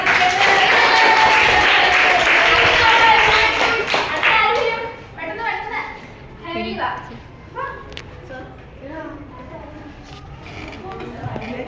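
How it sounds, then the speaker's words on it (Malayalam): A burst of audience clapping fills the first few seconds, then fades out as people begin talking over scattered noise. "നല്ലൊരു ക്ലാപ്പ് കൊടുത്തേ"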